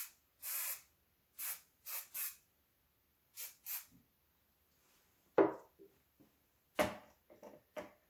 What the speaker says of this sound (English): We'll take that curl, we'll lightly mist again.